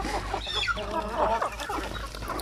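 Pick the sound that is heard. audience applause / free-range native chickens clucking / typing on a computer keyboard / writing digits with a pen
free-range native chickens clucking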